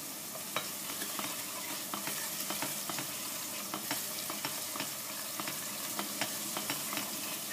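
Spices, caraway and black pepper frying in oil for Tunisian madfouna, giving a continuous soft sizzle with light, regular stirring clicks from a utensil and no voices.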